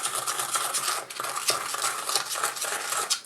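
Firework fountain composition containing sulfur, about four grams of powder, is stirred in a small container, a steady gritty scraping and rustling with rhythmic strokes, close and fairly quiet, with no talk.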